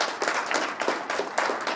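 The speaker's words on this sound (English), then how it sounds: "a round of applause for Joel" A small audience claps together for Joel at a 1 Million Cups Eden Prairie meeting, a short burst of brisk, fairly close hand claps with no talking.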